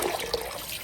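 Raw chicken is washed under a running kitchen tap, a brief, steady rush of water splashing and trickling over the meat in a sink, close and fairly loud with no voices.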